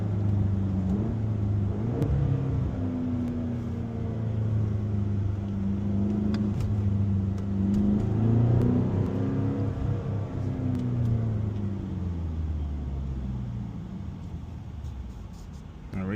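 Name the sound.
BMW X6M Valvetronic Designs valved sport exhaust downshifting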